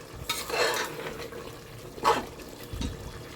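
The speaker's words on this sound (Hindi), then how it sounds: "खड़े मसालों में सबसे पहले हम दालचीनी की लकड़ी डाल देंगे" Cinnamon sticks and bay leaves dropped into hot oil for a butt salan, giving a few soft stirring scrapes and brief sizzling bursts at moderate level, with no talking.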